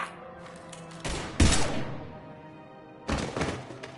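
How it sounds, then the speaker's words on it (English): Gunfire erupts in the Mass Effect video game, several loud bursts and thuds: a heavy blast around a second in, another strong volley just after, then a further burst near the end over a steady game ambience. "Now open fire!"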